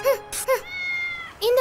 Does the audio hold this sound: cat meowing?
yes